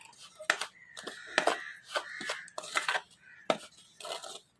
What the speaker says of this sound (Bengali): এখন আমার ভালো করে এগুলি মেশাতে হবে।